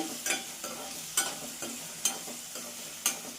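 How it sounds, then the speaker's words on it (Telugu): A spoon stirs taro pieces in a cooking pan, giving a steady run of scraping strokes about every half second, with soft frying sizzle underneath and no talking. "చామగడ్డలు వేసి బాగా కలిపేసాను"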